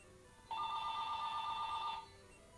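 A telephone bell rings in a single steady electronic burst of about one and a half seconds. It is clear but fairly faint against a quiet room background.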